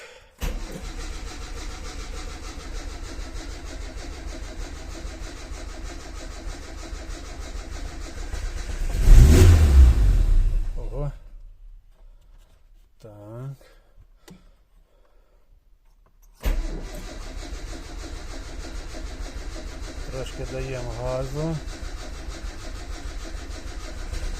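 A carbureted car engine cranks and catches, roaring loudly as it is revved for a moment, then dies away into near silence before steady engine noise resumes, close by with no talk.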